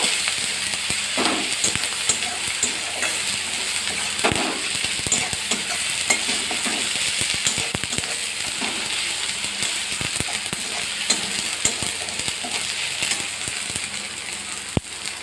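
Onion, garlic and ginger fry with chilli powder, turmeric, cumin powder and salt in a pan for a prawn curry, with a steady close sizzle and crackle broken by frequent scraping of a stirring spoon.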